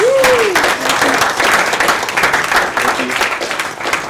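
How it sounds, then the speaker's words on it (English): A wedding crowd applauds steadily during the speeches, dense clapping throughout, with a brief whoop at the start. "Round of applause for both the groomsmen and the hen party, please."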